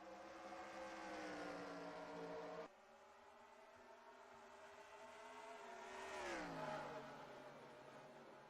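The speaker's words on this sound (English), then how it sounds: "And blasting through turns 3 and 4, Carter Friesen will have a good lead" Race cars in an ARCA series race roar around FairGrounds Speedway in Nashville. A loud, sustained engine drone rises and falls as the cars pass, with a sharp cut in pitch partway through, then a strong Doppler sweep downward as a car blasts by close.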